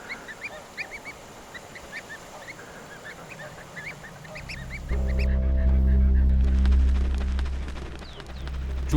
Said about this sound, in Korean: 불안해진 분홍발 기러기